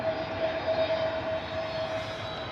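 An EasyJet jet arriving from Dubrovnik at Bristol Airport in wet, stormy weather gives a steady engine drone with a thin high whine, moderately loud and unbroken.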